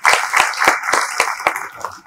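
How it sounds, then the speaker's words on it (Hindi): Audience applause at a mushaira poetry gathering in Bijapur, honouring the poet Saif Koti: a crowd claps at a steady, rhythmic pace with sharp regular beats, fairly loud and close, with no speech over it. "सैफ साहब के लिए एक बार तालियां बजा दीजिए आपने"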